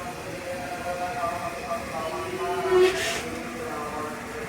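A new Chinese-built KRL commuter electric train hums and rumbles steadily at a moderate distance on a packed morning run, with a brief hiss near the middle and faint talking underneath.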